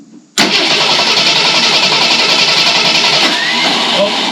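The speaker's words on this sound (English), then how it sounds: "Let's fire this thing up." An old Ford Econoline van engine with an original-style Autolite 1100 carburetor, revived after sitting 15+ years, suddenly catches after near-silence and runs loud and rough, holding a steady roar through the rest of the clip.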